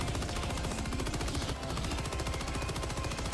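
A turret in Helldivers 2 fires continuously, a dense, loud, fast stream of evenly spaced shots with only a momentary break near the middle.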